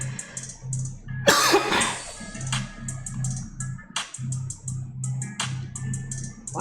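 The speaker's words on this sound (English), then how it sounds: "I'm coughing more with the lemon water than I was with regular water." One short, throaty cough sounds close to the microphone, surrounded by a quiet room with repeated soft electronic ticks and tones.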